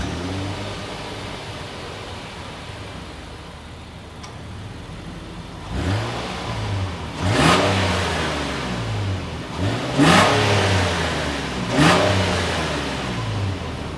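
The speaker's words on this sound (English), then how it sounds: "As always, here is that exhaust clip." A 2022 Nissan Pathfinder SUV engine idles, then revs sharply through the exhaust several times, each burst rising and falling in loud, throaty roars.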